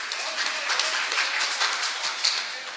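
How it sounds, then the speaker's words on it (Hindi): Audience clapping at a mushaira poetry gathering in Nawabganj, Bareilly, a fairly faint, continuous patter of many hands heard from a distance with no voices over it. "देखिए एक और ताली बजा दीजिए"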